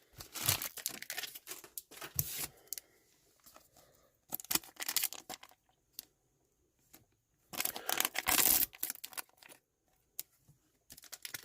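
Gundam trading card pack wrappers being torn open by a rip tab: close crinkling and tearing of foil in irregular bursts, with quiet pauses between and a longer loud crinkle near the end.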